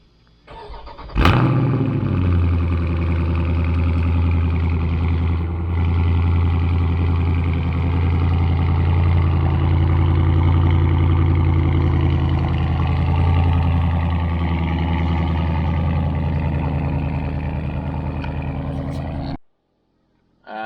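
Dodge Charger Scat Pack with a mid muffler delete and stock resonators cold-starts with a sharp crank and loud flare, then settles into a steady, deep, rumbling idle that runs for many seconds before cutting off abruptly.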